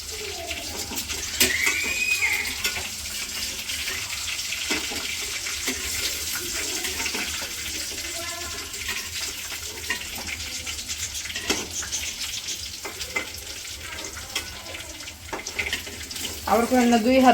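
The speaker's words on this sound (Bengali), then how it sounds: "দুই হাত পরিষ্কার করে ধুয়ে নিছি রান্না করবার আগে" Both hands washed under a running tap in a village home before cooking patishapta pitha; a steady hiss of flowing water with small splashing bursts runs throughout at close range.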